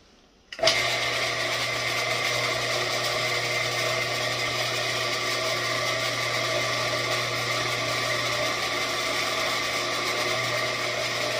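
A drill press spins up and drills steadily into metal, running at a slow, even speed: a continuous close mechanical whine with a low hum beneath, starting abruptly after a brief quiet moment and holding constant throughout.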